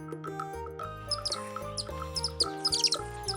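Sheartail bird calls, a series of bright high chirps and short tweets that grow denser toward the end, heard over a steady layered background of music tones.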